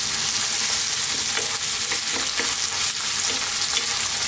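Garlic and ginger paste sizzles and spits steadily in hot oil over a lively heat while being stirred, a dense continuous crackle for Indian-style lentil soup, with no talking.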